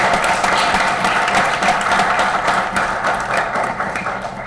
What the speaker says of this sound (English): Students, let's give them a round of applause for everything they do for our district